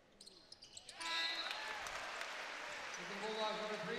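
At a Gonzaga vs Santa Clara women's college basketball game, the crowd breaks into sustained applause and cheering after a few ball bounces and squeaks, with an announcer's voice over the noise.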